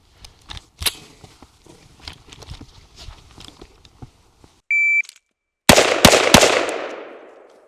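A shot timer gives one clear electronic beep on a shooting range, followed a moment later by a rapid string of four sharp, loud pistol shots with a ringing tail; quiet handling noises come before the beep.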